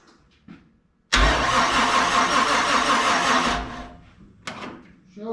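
A Toyota FJ40 engine cranks and catches with the choke pulled, roaring loudly and steadily for a few seconds up close before dropping back, followed by a couple of faint knocks.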